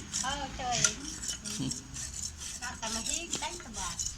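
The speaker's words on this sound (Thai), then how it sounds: "ดูครับการซอยยาครับ" A knife slicing tobacco leaf by hand the traditional way, with light repeated cutting clicks and scrapes under someone talking nearby.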